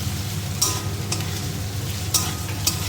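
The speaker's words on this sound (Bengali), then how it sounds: "আদাটা দিয়ে একটু ভাজবো ভালো করে" Chopped ginger fries with potato in a pan, giving a steady low sizzle broken by a few sharp spatula scrapes and stirs, close and fairly loud throughout.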